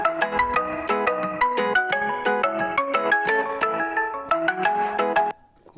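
An incoming call sets off a mobile phone ringtone, a bright melodic tune of quick repeating notes that plays loudly and close, then cuts off abruptly just before the end.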